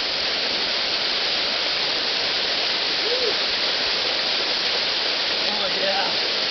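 A waterfall rushes in a steady, dense wash of white noise, close and continuous throughout with no pauses.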